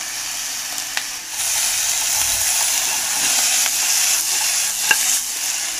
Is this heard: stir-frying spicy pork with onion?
yes